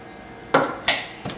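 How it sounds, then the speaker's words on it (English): A knife cuts strawberries into thin slices on a board. Three distinct close taps land at uneven intervals over a quiet background, with no speech. "cut it into thin slices"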